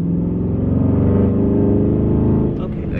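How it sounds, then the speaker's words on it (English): Car launch-control acceleration with active exhaust, a loud continuous engine roar rising steadily for a few seconds before dropping off, with a voice briefly over it at the end. "The active exhaust just makes it seem louder than it actually is in the higher gears"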